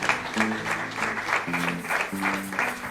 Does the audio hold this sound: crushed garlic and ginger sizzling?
no